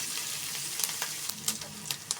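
Onions frying in a pan as the base for a fish stew, a steady soft sizzle with scattered crackles and pops throughout, fairly quiet and close, with no talking.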